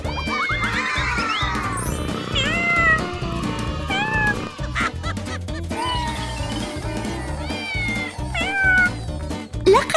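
A cat meows repeatedly in a park, with several clear, rising and falling cries close by over a busy, rhythmic background.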